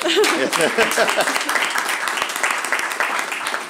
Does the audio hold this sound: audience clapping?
yes